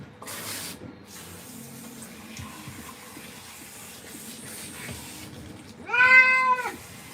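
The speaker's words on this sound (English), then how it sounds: "He's a beautiful cat." A domestic cat lets out one loud, drawn-out meow near the end after a quiet stretch of faint room noise, close to the listener.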